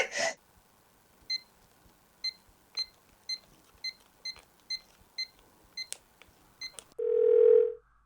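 Telephone keypad tones beep in a regular series of about ten short presses, then a steady ringing or dial tone sounds loudly at the end, with no talk.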